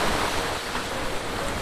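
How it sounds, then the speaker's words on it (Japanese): Ocean surf washes in a continuous, broad rush with a windy texture, steady and unbroken over the short stretch, with no voices. "波の音が聞こえる。"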